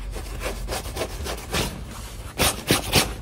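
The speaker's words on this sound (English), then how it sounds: "I can run my nails over it." Fingernails scraping back and forth across stiff, canvas-like duck fabric of hi-vis rain gear, a dry raspy rubbing in repeated strokes, close up, with a few louder scratches near the end.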